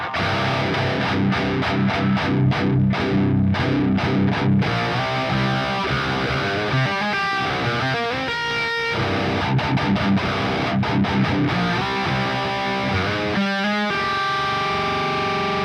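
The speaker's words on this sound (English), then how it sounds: "let's see what balance of grind and DS1 distortion we can get" Electric guitar driven through a Boss DS-1 distortion and a Grind pedal plays loud, saturated chords and riffs with choppy stops and sustained ringing notes, continuous and close.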